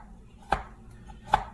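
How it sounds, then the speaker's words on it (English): A knife finely chops garlic, onions, coriander and red chili on a board in a home kitchen: two separate, crisp chops a moment apart against quiet room background, with no talking. "Now you need to finely chop 3 to 4 cloves of garlic, at least 2 onions, and some coriander with red chili as well."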